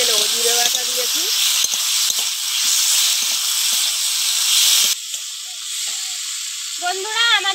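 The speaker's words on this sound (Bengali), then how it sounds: "এবার আমি জিরে বাটা দিয়ে দেবো। দিয়ে আর একটু কষিয়ে নেবো।" Cumin paste sizzling and hissing in a pan while frying down for a Bengali katla fish curry with potato, carrot and tomato, a steady close broadband sizzle, with someone talking over it at the start and end.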